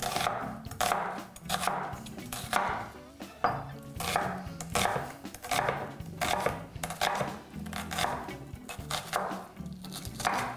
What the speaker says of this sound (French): ça, c'était juste un oignon moyen, haché